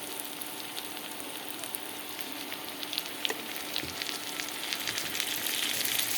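Ginger, garlic and cumin paste frying in a pan gives a steady, fairly quiet hiss with soft crackles throughout, no voices.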